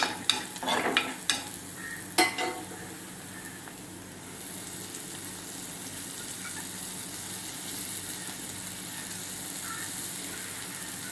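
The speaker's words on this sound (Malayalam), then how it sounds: "ഇതിലേക്ക് നമ്മളെടുത്ത് വെച്ചിരിക്കുന്ന മുരിങ്ങയില നമുക്കിട്ട് കൊടുക്കാം" Drumstick leaves tossed into a pan of frying lentil thoran: a few sharp clatters and scrapes of stirring at the start, then a steady, even sizzle that carries on alone to the end.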